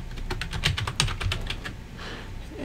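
Quick bursts of clicking keys on a computer keyboard, a rapid run of close, crisp keystrokes that fades out near the end, with no speech over it.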